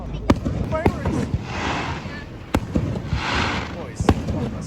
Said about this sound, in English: Bombs going off. Hey, bombs. Get down. Fireworks.